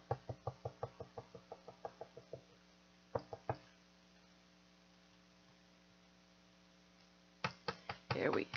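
A rubber stamp presses onto uneven paper in a quick run of about a dozen light, rhythmic thumps, then a few isolated taps and a final cluster of knocks, all close and crisp over a faint mains hum.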